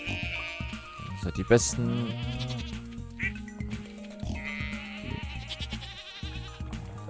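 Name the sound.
goat bleating in the video game Stardew Valley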